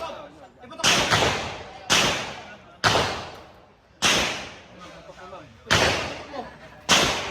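Six sharp gunshots at a firing range about a second apart, each a loud crack with a long echoing tail, with faint talk between the shots.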